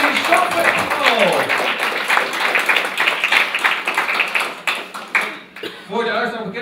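A studio audience at the Eurovision Song Contest gives dense, loud applause for the jury chair. The clapping thins and fades over several seconds, and a voice then begins talking.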